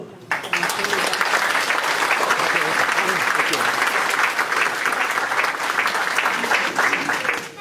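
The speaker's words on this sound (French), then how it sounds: "on va les applaudir" Audience applause at the inauguration of a festive hall in Ernolsheim: a dense, steady clatter of many hands clapping that starts abruptly and holds loud and close throughout, with voices faintly mixed in.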